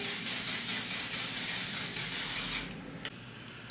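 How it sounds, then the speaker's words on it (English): Makeup setting spray misted onto a face: a steady, close hiss of aerosol spray for about two and a half seconds, then it stops, followed by a couple of faint clicks in a quiet room. "Use this setting spray."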